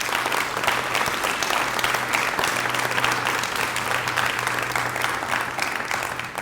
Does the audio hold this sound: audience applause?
yes